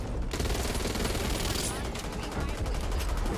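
Rapid, dense gunfire in the co-op zombie shooter Back 4 Blood on Nightmare difficulty, with sustained overlapping bursts that grow into sharp, quick volleys near the end, loud and close throughout.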